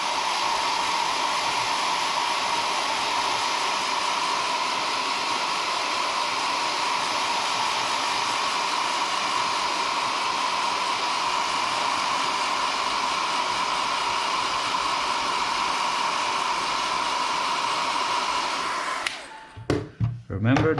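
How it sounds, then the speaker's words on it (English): A hair dryer roars in a steady, unbroken rush for about nineteen seconds while preheating a Logitech MX Master 3S computer mouse for repair, then cuts off abruptly, leaving a few faint handling noises. "Let's do some preheat with just a hairdryer."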